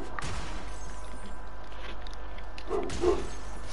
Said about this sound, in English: Someone tell that dog to shut the hell up